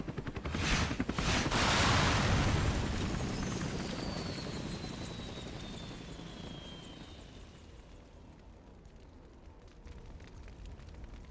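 Helicopter crashing in frosty mountains in the video game Crisis Core: Final Fantasy 7, a loud rotor roar with rapid chopping swelling early, then fading into a descending whine and rumble.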